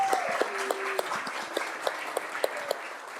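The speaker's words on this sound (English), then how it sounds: "So let's give her a big round of applause." An audience at a tribal public health policy event in Kansas breaks into steady applause, with a few sharper individual claps standing out from the crowd.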